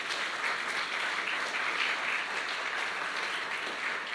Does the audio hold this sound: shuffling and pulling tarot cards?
no